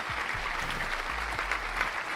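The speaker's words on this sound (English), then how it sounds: "Round of applause for your motherfucking government" Steady clapping and applause from an audience during a late-night tech and security news stream, dense and continuous throughout at moderate level, with faint low rumble beneath and no talking.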